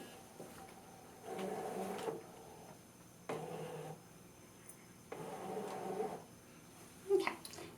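A ScanNCut cutting machine loading a gridded cutting mat: several bursts of mechanical whirring and rolling feed noise, moderately close and fairly quiet, separated by short pauses, with a small click near the end.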